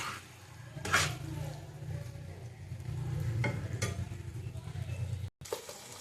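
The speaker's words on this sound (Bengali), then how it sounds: "ভালো করে কষিয়ে নিই আগে" Taro being stir-fried in a pan, a continuous low sizzle with scraping stirs and a couple of brief clatters, close and moderately quiet, with no talk.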